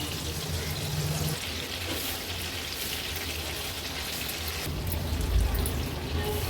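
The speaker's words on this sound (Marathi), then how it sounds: "मीडियम फ्लेमवरच आपण ही मुशी तळून घेत होतो।" Pieces of mushi (shark) fish fry in oil in a pan over a medium flame, giving a steady, even sizzle that continues throughout at moderate loudness.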